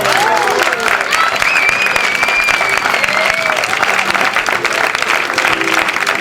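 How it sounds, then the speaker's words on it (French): A church congregation applauding and acclaiming, with loud continuous clapping and cheering voices filling the room for several seconds. "Que tout le monde acclame le nom de Jésus."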